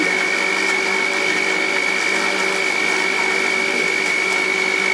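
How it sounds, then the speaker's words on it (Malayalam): A mixer grinder blends mango, chilled milk and sugar into a smooth shake, giving a loud, steady motor whine with a constant high tone that holds unbroken throughout, with no talking over it. "നമുക്കിതിനെ അടച്ചു വെച്ച് നന്നായി അരച്ചെടുക്കണം നല്ല സ്മൂത്ത് പേസ്റ്റ് ആയി മാറണം"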